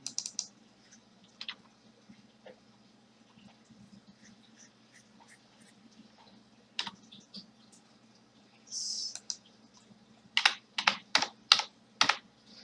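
Typing and deleting on a computer keyboard: sparse, quiet key taps scattered over a low hum, ending in a fast, louder burst of repeated clicks near the end, with no talking.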